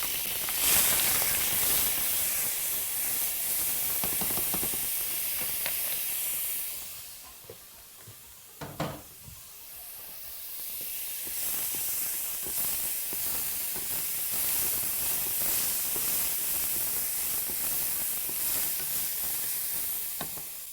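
Onions frying in rendered fat in a pan for a Middle Eastern bean and minced meat casserole, a steady loud sizzle and hiss that dips midway, with a sharp clatter as they are stirred.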